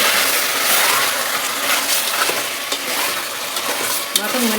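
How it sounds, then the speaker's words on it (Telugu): Pieces of mutton sizzle loudly in hot oil with masala while being stirred, with continuous frying crackle and scraping of the spoon close up. "ఇవి కూడా ఆయిల్లో మంచిగా ఫ్రై అవ్వాలి మటన్"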